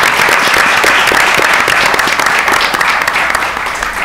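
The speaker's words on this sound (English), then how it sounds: "And a round of applause for the League of Women Voters," Sustained applause from a forum audience thanking the League of Women Voters for organizing the event; a thick wash of many hands clapping evenly throughout, tapering slightly near the end.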